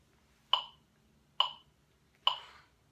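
Trumpet notes played with very short staccato tonguing: three crisp, evenly spaced blasts, each clipped off quickly with silence between, close and alone.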